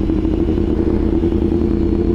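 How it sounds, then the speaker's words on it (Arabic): A BMW S1000RR sport motorcycle engine runs steadily up close, a loud continuous drone with a rough, slightly clattery texture and no clear revving across the whole stretch. "لقيتوني دابا كنتيستي الاسم الار ار ديال عبدو"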